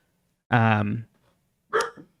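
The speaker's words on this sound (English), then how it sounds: "We should pause because he's going to bark." Dog giving a single loud, drawn-out bark indoors, followed a moment later by a shorter second bark, close to the microphone with quiet gaps around it.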